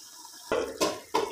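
Water from a cup is poured into a pot of chicken chickpea curry, with a few short splashing bursts close by and no talking.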